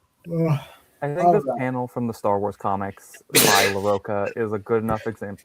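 A single sharp sneeze bursts out midway through ongoing conversation, loud and brief, with speech continuing on both sides of it.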